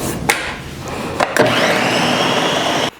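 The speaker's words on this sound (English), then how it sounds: "we're just gonna blend this up for like 3 to 5 minutes" A blender whirs up vanilla beans and sugar into a paste, starting with a couple of brief clunks before the motor rises into a loud, steady drone that cuts off abruptly.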